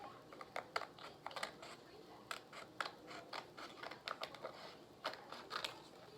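Scissors snip in quick, close bursts through excess white film around a glittery temporary tattoo, the crisp clicks and cuts coming in uneven clusters with brief pauses between.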